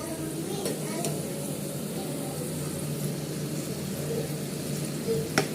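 Food frying in a frying pan on a home stove, a steady close sizzle with light stirring scrapes and a few sharp clinks of a utensil against the pan.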